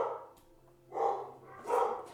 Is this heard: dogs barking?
yes